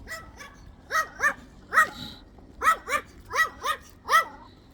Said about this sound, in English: in spite of a little doggy barking